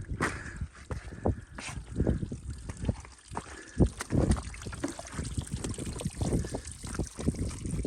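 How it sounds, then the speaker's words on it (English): Tiny waterfalls on a Peak District hike trickle and splash close by, an uneven burbling water sound with irregular gurgles and splashes throughout. "Tiny waterfalls."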